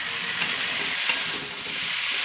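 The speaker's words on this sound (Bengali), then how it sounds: "দিয়ে সুন্দর করে আমি মশলাটা কষাতে থাকবো" Spice masala with fried onions and potatoes cooks down in a pan for an egg curry, giving a continuous bright sizzle with soft stirring scrapes and a couple of brief clinks, close and steady, with no voices.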